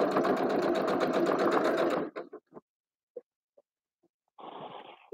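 A sewing machine runs steadily for about two seconds, stitching a quarter-inch seam with a fast, even mechanical whir. It then stops, followed by a few small clicks and a brief fabric rustle.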